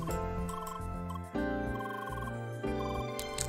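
A phone-call ringtone from the video game CrossCode: a bright, trilling electronic melody that repeats in three cycles, steady and prominent, with no talk.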